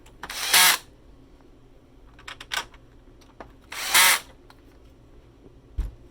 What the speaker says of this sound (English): now we're going to install our screws back into position